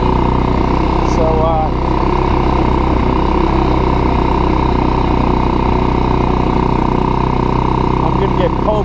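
A Kazuma Jaguar 500 4x4 ATV engine runs with a loud, steady, close-up drone that holds at an even pitch throughout.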